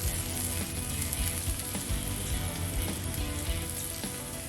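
Burgers sizzle and fry on a plancha or cast iron griddle, a steady close crackling hiss that runs unbroken without talk.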